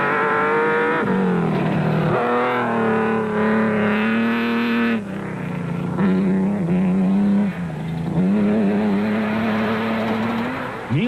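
Nissan race truck in an off-road rally, the engine roaring loud and close as it revs and shifts through gears, pitch rising and dropping in repeated surges with no talk.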